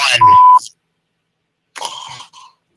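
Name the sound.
voicemail beep tone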